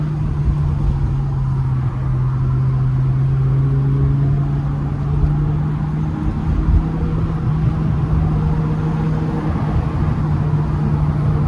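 A BMW E60 M5 engine drones steadily inside a tunnel, a constant close, loud hum with a strong low tone and little change in pitch throughout, without any voices.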